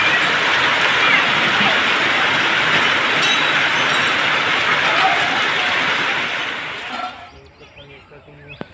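Steady rain pours over a chilli farm field as a dense, even hiss that holds strong, then thins out and fades near the end.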